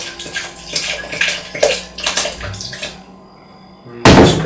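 Distilled water from a household filter pours into a container for fermentation, a splashy trickling that runs in uneven bursts for about three seconds, pauses, then returns louder and closer near the end.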